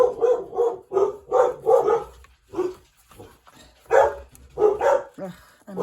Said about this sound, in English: I might have to go see what they're barking at